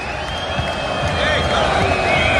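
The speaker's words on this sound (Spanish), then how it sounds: "Ingresan los equipos, aplauso del público aquí en Itagua." Stadium crowd in Itaguá applauding as Guaraní and Cerro Porteño walk onto the pitch: a loud, continuous wash of clapping and cheering, with a voice talking over it.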